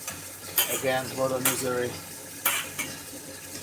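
Scallops sizzle in a pan while a utensil scrapes and clatters against the metal, with steady frying hiss, a few sharp clinks, and someone speaking briefly over it.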